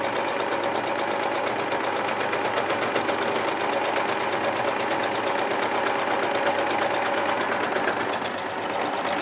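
An overlock serger stitches quilt fabric for a patchwork cushion, a steady, fast mechanical whir with rapid needle chatter running continuously and close up at constant loudness with no talk.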